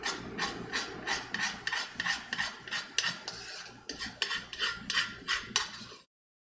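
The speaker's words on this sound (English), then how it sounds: "So we're going to go and grab our spoon," A spoon stirs marinara sauce in a cooking pot, a quiet rhythmic scraping against the pot repeated in quick strokes, with no talking.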